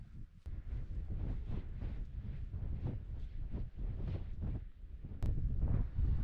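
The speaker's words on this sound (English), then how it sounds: "It's quite a strong wind now." Strong wind gusting across an exposed fell on a cloudy hillside climb, a steady roaring buffet against the microphone with lulls and a sharper gust near the end, no talking.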